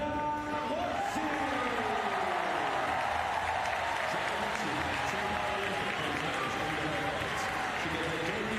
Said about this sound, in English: Mesdames, messieurs, merci d'applaudir Gianna Rossi.